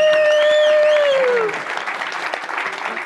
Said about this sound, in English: let's give a round of applause for our fabulous panelists